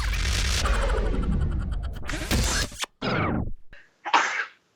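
A burst of noisy breath builds and then releases in a sharp sneeze, followed by a brief pause and a shorter, softer expulsion, close and loud.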